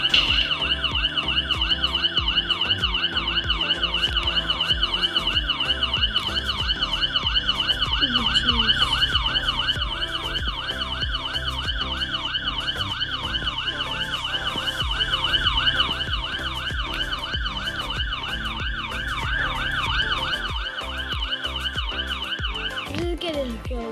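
A police car siren in the Roblox game Brookhaven wails in steady repeating up-and-down cycles, loud and continuous across the whole stretch, with an engine-like drone underneath.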